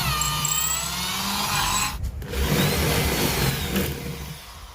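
An electric drill bores a hole in a wooden Murray cod lure, a Wilson slick back, with a steady whining motor hum and grinding bite that pauses briefly midway before resuming.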